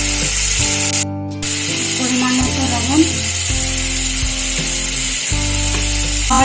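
Spiced potato and pointed gourd fritter curry sizzles steadily in a pan while frying with ground coriander, cumin, turmeric, salt and a little sugar, a continuous close hiss with brief stirring scrapes and a steady background hum.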